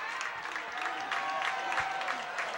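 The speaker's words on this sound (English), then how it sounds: "good time for the Cat fans to stand up and cheer" Football fans in the stands clap and cheer for the Cats at a high school game in Boonville, a distant, continuous wash of crowd noise with scattered whoops.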